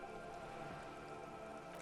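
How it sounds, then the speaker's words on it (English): In the video game Disco Elysium, rain falls steadily on wooden boards and the surrounding water, making a soft, even patter and hiss with faint drips, quiet and continuous. "All around you, rain keeps falling down. On the wooden boards she's standing on, and on the water around you."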